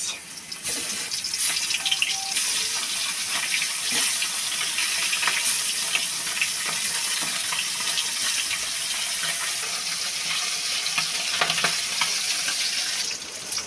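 Tengra fish frying in hot oil in a wok gives a steady, close, loud sizzle with continuous crackle and spatter, joined by occasional sharp clicks and scrapes, and no talk throughout.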